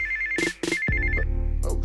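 A phone ringtone going off inside a video game, a loud electronic tone heard in short bursts, then followed by a low rumbling hum with a further brief chirp.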